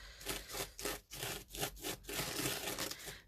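Thick, gritty paste being pushed across a stencil and worked through its holes: a series of soft, rasping scrape strokes in an uneven rhythm, close and fairly quiet.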